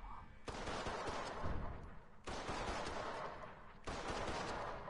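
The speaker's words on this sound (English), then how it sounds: "He's shooting at me" Enemy gunfire in the video game Mafia 3 comes as three loud bursts of rapid automatic shots, each lasting over a second, close and harsh with little gap between them.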